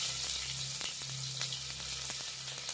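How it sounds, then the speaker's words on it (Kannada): Mustard seeds crackle in hot oil, a steady close frying hiss with a few sharp pops and light stirring, no speech. "ಎಣ್ಣೆ ಕಾದ ನಂತರ ಸಾಸಿವೆ ಹಾಕೋಬೇಕು"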